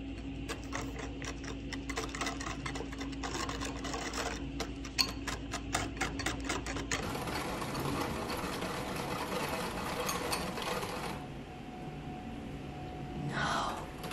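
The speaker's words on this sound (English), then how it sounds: "And I will be whisking." Egg yolks and sugar whisked in a bowl for eggnog: a steady, rapid, rhythmic clatter continues at moderate loudness throughout, with the texture shifting partway through, and no talking.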